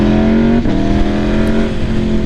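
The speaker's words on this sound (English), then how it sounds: "My goodness, this exhaust sounds so good." A loud, steady engine drone with a deep, throaty exhaust note from a 2016 Aprilia RSV4 RF motorcycle, holding a high idle with a brief dip partway through.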